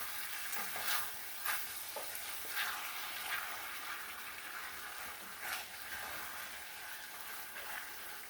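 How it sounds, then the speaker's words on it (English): A spoon scrapes chicken and sausage risotto around a hot skillet, soft repeated scrapes and stirs over a quiet, steady frying hiss, fairly faint and close, with no voices. "some on the side, you just want to scrape that down"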